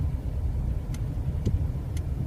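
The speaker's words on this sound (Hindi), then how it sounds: "हमारी गाड़ी 20 से 25 किलोमीटर पर आवर की स्पीड पर जा रही है" A car moving slowly at about 20 to 25 km/h during a driving lesson, giving a steady low engine and road rumble throughout with a few faint clicks, and no talk.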